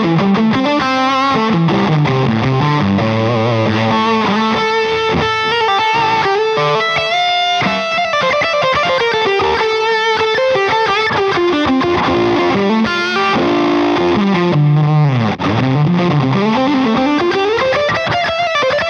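Electric guitar through a Dunlop Gypsy Fuzz pedal, loud and continuous, a thick distorted tone playing a busy melodic line with sliding and bending notes and no pauses.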